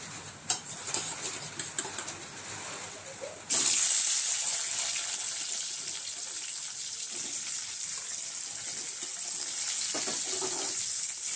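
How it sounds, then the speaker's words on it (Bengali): Mango pieces dropped into hot oil with cumin in a kadai sizzle loudly from the moment they go in, a steady bright hiss with a few clinks and stirring scrapes, no talk. "এবার তেলের মধ্যে একটু আমগুলোকে ভেজে নেব"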